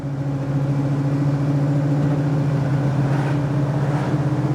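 A 1968 Chevrolet Chevelle cruising at steady speed in fifth gear on back roads, a loud continuous low drone with a constant hum and no talking.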